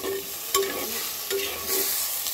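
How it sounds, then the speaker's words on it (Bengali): Spices cooking down in a pan with a splash of water, a steady soft sizzle with a few louder stirring scrapes and clinks of a spoon, close and alone. "ঠিক এই সময়ে আমি দেব সামান্য পরিমাণে জল, মশলাটাকে কষানোর জন্য"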